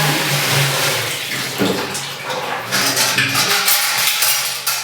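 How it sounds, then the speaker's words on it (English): Sanitizing solution drains into a stainless steel milk can in a goat milking parlor, a splashing, gurgling pour that builds louder and more turbulent in the second half, with no talking. "Turn that off, drain a little bit into the milk can."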